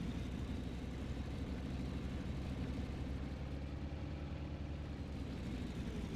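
Steady low drone of an A6M5 Zero's radial engine idling on the ground in IL-2 Sturmovik, constant and fairly quiet with no change in pitch, heard alone.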